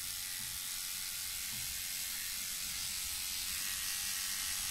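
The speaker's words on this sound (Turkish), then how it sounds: "Rotary makine, yani bu makine sesli." Rotary tattoo machine running in a steady, even mechanical whir with a fine high buzz, continuous and faint, with no talking.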